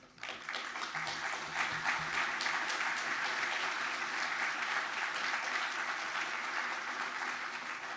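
Audience applause at a donor dedication ceremony, a dense, steady clapping from a large crowd that starts abruptly and continues evenly for several seconds.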